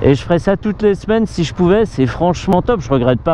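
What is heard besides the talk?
No everyday noises stand out.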